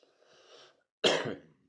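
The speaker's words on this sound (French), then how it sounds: "Oui, je tousse en même temps." A soft breathy exhale followed by a single sharp, close cough.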